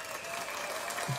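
Canned applause from a soundboard during a livestream chat; a brief, even burst of many-handed clapping at a moderate level, with a short low thump near the end.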